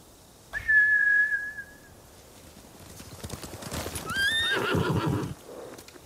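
A samurai horse in the video game Ghost of Tsushima gives a loud, high whinny, then hooves clatter at a gallop and a second neigh rises over the pounding hoofbeats.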